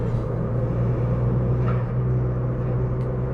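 Intake and induction whoosh from a tuned Ford Fiesta ST Mk8.5 with over 250 bhp, cruising in normal mode: a steady low engine drone with a continuous airy sucking hiss layered on top, close and even throughout.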